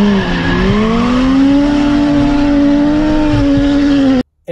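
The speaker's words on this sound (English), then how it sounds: "So the drift trains are 5 to 10 to 15 cars in a row." Loud engines roar and tires squeal continuously as a train of drift cars slides past together at Ebisu Circuit, Japan, a sustained rising-and-falling whine that cuts off abruptly near the end.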